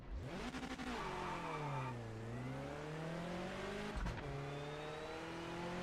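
A race car in the Project Motor Racing video game revs and accelerates, its engine pitch climbing and falling through gear changes in one continuous, loud drone with a brief dip near the four-second mark.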